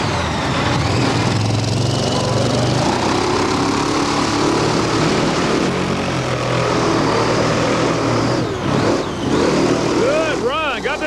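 Truck engine at a 1990 dirt track race in Rockford, Illinois, revving loudly and continuously as it is driven hard through a slippery corner, with a commentator speaking over it and crowd noise behind.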